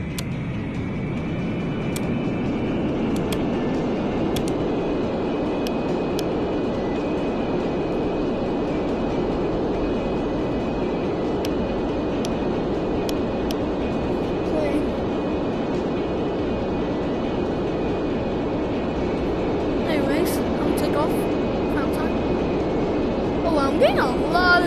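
Airplane taking off in a VR flight video game, a steady loud engine roar that holds level throughout with faint clicks and a few higher tones near the end.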